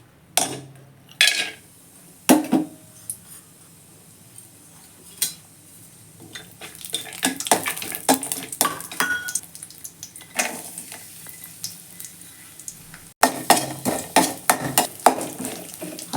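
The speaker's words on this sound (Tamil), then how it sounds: "இப்போ இந்த முந்திரி திராட்சைலாம் வறுத்து எடுத்துக்கலாம்." Cashews and raisins roast in ghee in a pan, with a steady sizzle under repeated scraping and clinking from a spoon against the metal. The stirring grows busier toward the end, and no one speaks.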